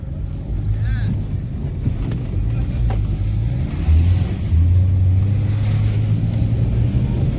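A cheap Saturn Ion car driving, its low engine and road rumble steady and close throughout, with wind buffeting the microphone and people talking over it.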